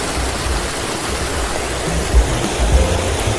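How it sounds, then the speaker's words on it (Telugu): Water rushing down a waterfall at the Medaram Jatara, a loud, steady broadband roar with low rumbling surges, continuous and close with no voices. "బాహుబలి సినిమా లెక్క వాటర్ మొత్తం కిందికి వస్తున్నాయి"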